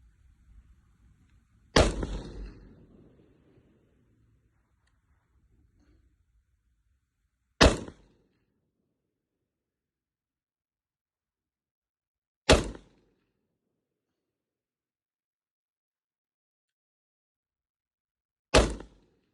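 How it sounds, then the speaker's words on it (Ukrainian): Four sharp AKS-74U rifle shots fired at a 50 m range target, spaced about five seconds apart, each a loud isolated crack with near silence between; the first carries a longer rumbling tail. "робимо постріли плавно,"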